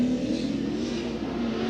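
A Pro 2 drag racing car accelerates down the track at a Texas event in 2018, a steady engine roar that holds at a fairly even level over a short moment.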